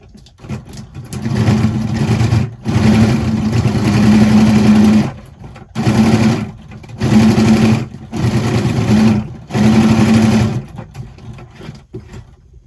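A sewing machine runs in about five whirring bursts separated by short pauses as it stitches paper for a junk journal, loud and close, with no voices.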